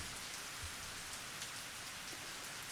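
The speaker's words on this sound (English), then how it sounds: "The rain that began earlier in the evening was still coming down." Steady rain falls in a Higurashi video game scene, a soft, even hiss of drops on surfaces that stays constant and fairly quiet throughout, with no voices.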